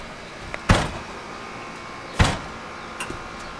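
Door of a Honda Integra DA9 being pushed closed but not shutting fully, two firm thuds about a second and a half apart followed by a lighter knock, close up with no talk.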